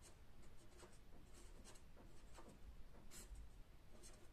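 Pen or pencil scratches on paper while a math fraction is worked out by hand. Short, quiet strokes come close up in an uneven rhythm, with no talking.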